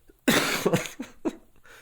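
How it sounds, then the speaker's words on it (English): A short run of about four harsh coughs in quick succession, close and fairly loud, with brief pauses between them. "I feel like it made me cough and hurt my throat"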